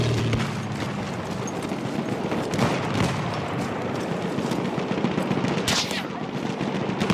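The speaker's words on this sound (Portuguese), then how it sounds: "Vem atirando em nós aqui." Battlefield 1 multiplayer conquest battle on the Giant's Shadow map, with dense, continuous gunfire and distant explosions rumbling throughout, a steady loud wash of combat noise with no clear gaps.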